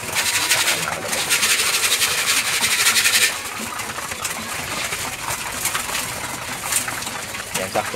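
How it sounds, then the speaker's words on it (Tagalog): Pigeons being fed grain at a loft coo and rustle nearby in a steady, busy backdrop, with a dense bright layer of pecking, clicks and flutter over the low cooing. "Ayun mga kalapatids, pinapakain natin sila."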